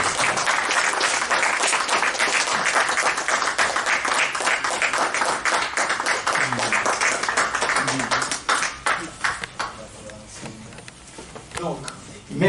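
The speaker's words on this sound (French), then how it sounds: "On peut l'applaudir encore plus" An audience at a talk on pan-Africanism gives a standing ovation, dense, sustained applause that thins to scattered claps, with voices heard underneath.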